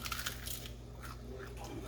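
Biting into crunchy cooked roe shad fish, a couple of close crisp crunches over a steady low background hum, brief and up close.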